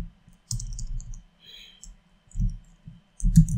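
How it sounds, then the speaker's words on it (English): Bursts of keyboard typing, clicky keystrokes in short runs separated by pauses, close and fairly clear. "excuse my typing"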